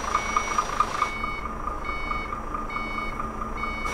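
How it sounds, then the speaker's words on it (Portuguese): Blind spot sensor on a truck in Euro Truck Simulator 2 beeping in a quick series of evenly spaced electronic tones, then continuing more softly over a steady low engine hum. "Esse barulhinho que fez é o sensor de ponto cego"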